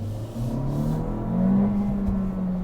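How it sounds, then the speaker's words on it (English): A 2023 Honda Civic Si engine revs up and holds its speed as the throttle lifts, a steady close engine drone with a brief swell and slow fall, with no talking. "did you hear that rev hang?"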